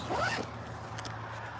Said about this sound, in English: So we gotta zip that up.